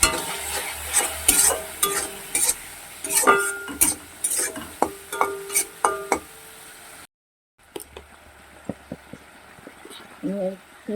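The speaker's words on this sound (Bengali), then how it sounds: "সবগুলো একসঙ্গে ভাজতে হবে যাতে মশলাগুলো পুড়ে না যায়" Spices with turmeric and a splash of water fry together in a pan for a taro-leaf hilsa dish. Sharp, rhythmic spatula scrapes and clinks run over a soft sizzle, then a brief silence before quieter stirring resumes.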